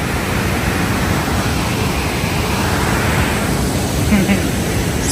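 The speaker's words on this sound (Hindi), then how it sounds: "और ये वाटरफॉल।" A waterfall beside a mountain lake in Switzerland, heard as a loud, constant, hissing rush of falling water that stays steady throughout.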